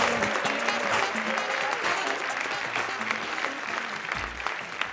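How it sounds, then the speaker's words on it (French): Audience applause welcoming a stand-up comedian to the stage at a comedy show, a loud, dense, continuous crowd clapping that holds steady with a few muffled voices mixed in. "Sous vos applaudissements."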